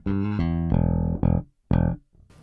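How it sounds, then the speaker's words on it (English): An unprocessed Sire V7 five-string jazz bass, played through both pickups, sounds a short phrase of several plucked notes, each punchy and close, with a brief gap before the final note rings and fades. "straight out to you without any processing whatsoever, the jazz bass, both pickups, sounds like this"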